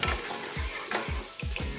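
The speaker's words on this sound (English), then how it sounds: "I'm gonna toss it in, stir fry it just a little bit" Tofu sizzles loudly in hot oil while a utensil scrapes and tosses it in a quick, regular stir-fry rhythm, close by.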